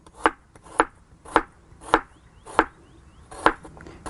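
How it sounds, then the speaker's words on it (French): Six sharp, evenly spaced knife chops on a board as fresh turmeric root is cut into small pieces, each a crisp close thud with quiet gaps between. "Je le coupe en petits bouts, comme ça, il sera très rapide à mixer"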